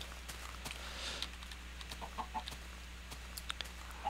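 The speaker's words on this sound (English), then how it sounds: "I think this chicken is the one that I hit." A chicken in the game Minecraft clucks in short soft bursts over a low steady hum, with a few quick patters and clicks spread across the moment, fairly faint and with no talking.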